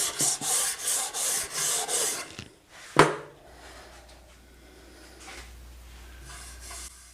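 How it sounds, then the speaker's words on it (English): Rhythmic rasping strokes of a sanding block rubbing along the edge of edge banding to remove excess glue, about six steady passes, followed by a sharp knock and quiet background. "is to sand the edges of the edge banding and get the excess glue off"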